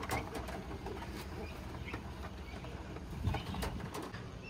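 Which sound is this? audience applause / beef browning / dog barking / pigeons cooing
pigeons cooing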